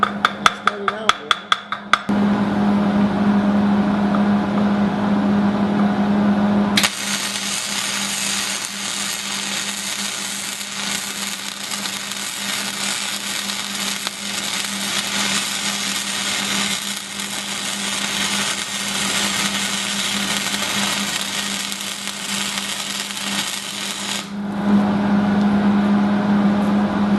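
Steady welder hum runs loud and continuous for about twenty seconds, with a constant tonal drone under it, set between quieter stretches at the start and end.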